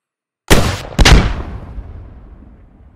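Two heavy cannon blasts from a Challenger 2 tank firing at armor in the game Squad, about half a second apart, each a loud sharp boom with a long rumbling tail fading over two seconds.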